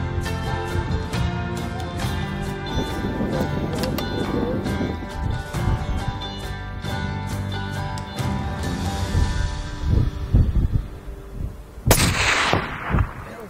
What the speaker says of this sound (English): I get to make a great shot on an Aoudad, and he dropped